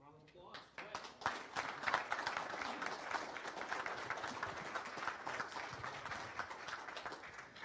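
Audience applause at a county budget update meeting, starting with a few claps and swelling into steady, moderately distant clapping that carries on for several seconds, with some speech mixed in.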